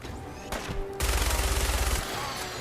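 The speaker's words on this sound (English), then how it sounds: "you want something like the explosive minigun that deals a lot of ballistic damage" An explosive minigun fires in a video game, a dense, rapid stream of shots with ballistic bursts that runs loud for about a second and then continues more faintly with other game noise.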